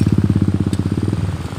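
A habal-habal motorcycle taxi engine chugging at a steady idle, loud and close, with an even rapid pulsing rhythm throughout.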